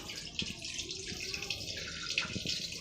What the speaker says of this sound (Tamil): நம்மளும் அரிசியை கழுவி ஊற வச்சிடலாம்